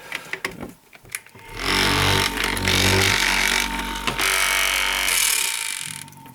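A Rubi Triller vibrator for laying large-format tile runs with a close, buzzing mechanical hum after a few handling clicks. It holds for about four seconds with slight shifts in tone, then winds down.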